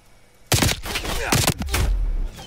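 Rapid bursts of gunfire in Call of Duty on the Nuketown 84 map: a loud volley of close shots starting abruptly and continuing in dense, overlapping cracks.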